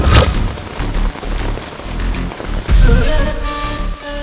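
Heavy rain pours steadily in a scene from a Hindi-dubbed South Indian action film, a loud, dense wash of downpour that swells and eases without a break for the whole stretch, with no voices heard.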